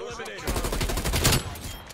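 Rapid automatic gunfire from an XM4 rifle in the Call of Duty Cold War video game, a quick burst of closely spaced shots lasting about a second amid game sounds.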